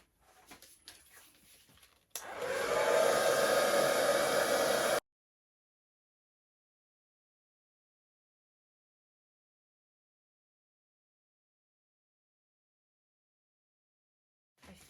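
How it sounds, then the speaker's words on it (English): A hair dryer switches on and blows steadily over acrylic pour paint for about three seconds with a whooshing hum, then cuts off to silence after faint rustling. "I'm going to use the hairdryer."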